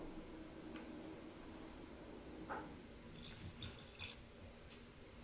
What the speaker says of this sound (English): And then I'm going to put in just a little bit of water.